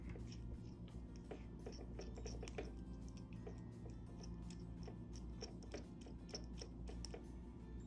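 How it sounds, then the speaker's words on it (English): An Asvine V126 fountain pen barrel is unscrewed from a wrench, producing faint, close ticking and light clicking of plastic threads in an irregular patter, with no talking. "I prefer to rotate the barrel instead of the wrench."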